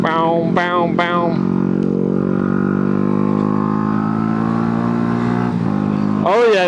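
A Yamaha R125 motorcycle engine revs in short sharp bursts, then settles into a steady, close, harmonic drone as the bike cruises. Another quick rev rises at the end.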